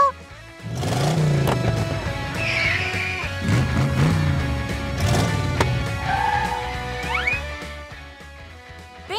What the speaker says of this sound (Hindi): लगता है कि पहला क्लाइंट गाड़ी चला रहा है